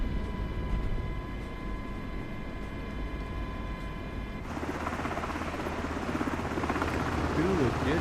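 MH-60 helicopter in Microsoft Flight Simulator, a steady whining turbine hum with tonal engine lines that abruptly change character midway as the engines wind down, leaving a broad rumbling rotor noise.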